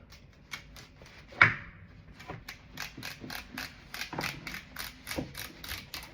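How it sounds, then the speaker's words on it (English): A razor blade cuts down the stitch line of a 1996 sun visor, producing a run of small rhythmic ticks and snips close by, with one sharper snap early on and no talking. "Let's work our way down with a razor blade."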